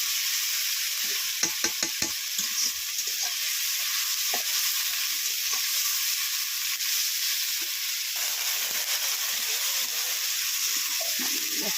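Ginger garlic paste fries in a pan with a loud, continuous sizzle heard up close, broken early by a quick series of stirring scrapes and taps.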